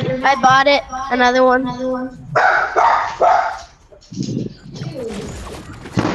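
A pet dog barks in a room during a video game session, a few short sharp barks near the end, mixed under loud excited talking from a player.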